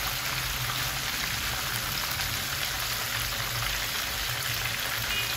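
Croaker fish heads frying in hot oil make a steady, even sizzle that patters like rain, close and continuous, with no talking.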